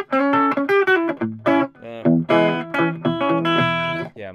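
An overdriven Gretsch Duo Jet electric guitar plays a quick, twangy rockabilly riff of punchy picked notes and bends, loud and close with no talking.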